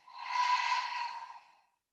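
A single long exhale through an open mouth during a gentle yoga breathing exercise, a soft, close breathy sigh rising and tapering off over about a second and a half.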